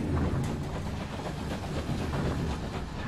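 Train rolling along in Night in the Woods, a steady low rumble with faint rhythmic clatter, continuous and even throughout, with no voices over it.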